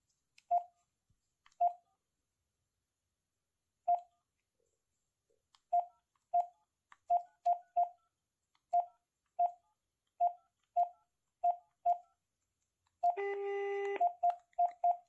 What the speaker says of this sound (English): let me just call the phone again.